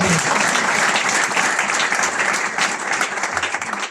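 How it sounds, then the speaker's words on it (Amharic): A church congregation claps together in an Ethiopian worship service, loud and continuous hand clapping sustained evenly throughout with a faint murmur of voices beneath. "አጨብጭቡ ለጌታ"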